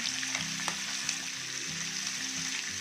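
Fish fries on a non-stick tawa over a low flame, a steady close sizzle with faint crackles and a soft scrape or two, no voices.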